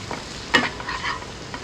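Soya chunks and chopped green capsicum stirred as they fry in oil, a brief scraping stir standing out over a soft, steady sizzle.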